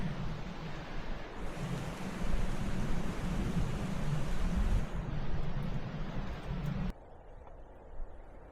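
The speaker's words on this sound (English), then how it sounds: "Wind is gusty today." Gusty wind blows outdoors on a Florida hiking trail, a loud, rushing roar that swells and fades before dropping off sharply near the end.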